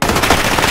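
Light machine gun fire in the Modern Warfare video game, a dense continuous burst of rapid shots, loud and close, lasting under a second.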